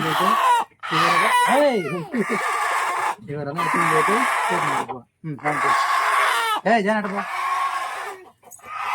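A fighting-type country rooster crows and clucks in repeated harmonic calls, loud and close, with people talking around it at a home.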